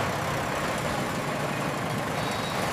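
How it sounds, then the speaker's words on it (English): An engine running at full capacity gives a loud, unbroken, close roar with a dense rumble throughout. "The engine is running at full capacity, pushing us forward."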